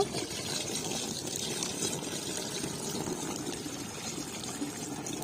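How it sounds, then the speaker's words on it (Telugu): A continuous, moderately loud splashing rush of five litres of water being poured into a sprayer tank, steady throughout with no voices. "ఇది ఐదు లీటర్ల నీళ్లు మనం దీంట్లో వేసేద్దాము"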